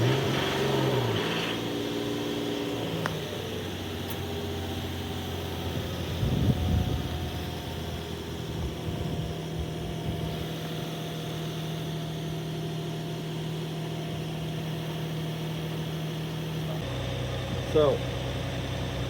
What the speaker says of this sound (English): we're going to run the vehicle for about 20 seconds to check for leaks